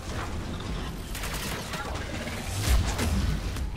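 A biotic explosion in the game Mass Effect 3 bursts amid ongoing combat noise, a series of crackling impacts and rumbles with a heavier low thump toward the end.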